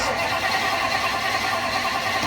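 Engine of a 1959 Ford Fairlane cranking with brake cleaner sprayed on the carburetor: a loud, continuous, close mechanical churn that holds steady throughout without catching, no talking.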